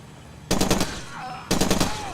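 Two short bursts of rapid automatic fire in Far Cry 2 ring out a second apart, each a quick string of four or five loud shots with a faint whine between them.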